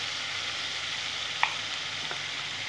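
Spices sizzle steadily in hot oil for matar ghugni, with chilli, cumin and coriander powders in the pan, a continuous frying hiss broken by a few faint stirring scrapes.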